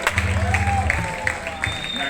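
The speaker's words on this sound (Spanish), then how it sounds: "Semoy y Hermigue, un aplauso muy fuerte para ellos." Applause and cheers rise from the audience at a live comedy songwriter duel in Zaragoza, brief and somewhat masked by a voice and tonal sounds running over the clapping.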